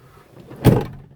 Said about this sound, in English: Can you shut the door?